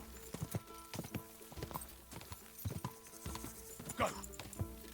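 A horse gallops in Kingdom Come Deliverance 2 with quick, regular hoof thuds up close, while a voice speaks over the hoofbeats partway through.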